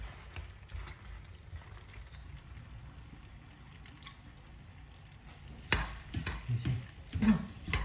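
Penne pasta with shrimp and bacon for carbonara being stirred in a pan, soft scraping and clattering sounds that grow louder and busier toward the end after a quiet stretch.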